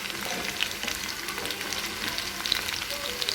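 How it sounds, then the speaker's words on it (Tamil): Anchovy fish frying in hot oil until crisp, a steady, fairly quiet sizzle with small crackles and pops, no talking. "இதை நல்லா கிறிஸ்பியாக ஆகிற வரைக்கும் நம்ம ஃப்ரை பண்ணி எடுத்துக்கலாம்."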